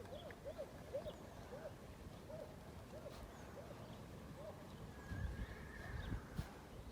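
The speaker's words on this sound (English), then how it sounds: "There's horses neighing and dogs barking and everything going on here." Horses neigh outdoors in a garden, a string of repeated whinnies at moderate distance over steady ambient noise, with a few louder rustling bumps toward the end.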